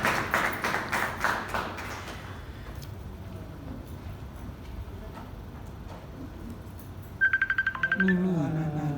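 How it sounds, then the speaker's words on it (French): A few claps from an audience at a theatre awards and diploma ceremony, starting fairly loud and thinning into scattered, fading hand claps, with a brief high tone and a voice near the end. "Sur vos applaudissements, s'il vous plaît."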